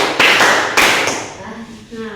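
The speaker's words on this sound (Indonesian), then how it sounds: "Tepuk 1, tepuk 2, tepuk 3, tepuk 4, tepuk 5" Hands clap in a slow counted sequence, two or three sharp near claps amid a lively room, with a voice counting along over them.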